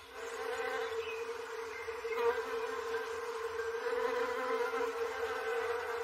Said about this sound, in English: The sound of bees is the sound of spring